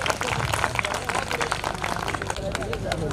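An assembly audience breaks into loud, dense applause for a poet, the clapping steady and crowded throughout, with voices mixed in among it.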